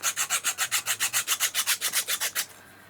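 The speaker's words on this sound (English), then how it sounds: "Let's sand it all off first so that it's not sharp." A resin butterfly piece is sanded smooth by hand in about fifteen quick, even rubbing strokes close to the mic, the rasping rhythm steady before stopping abruptly, with no talk.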